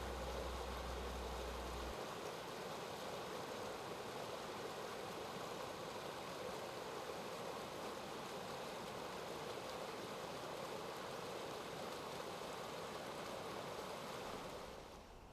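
A stream flows through three concrete pipes under a sandy beach into the Gulf of Finland, giving a steady, even rushing of water with a low rumble at the start, unbroken and without voices.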